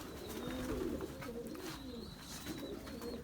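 Tumbler pigeons coo softly in low, repeated warbling calls, with faint higher bird chirps and light background noise.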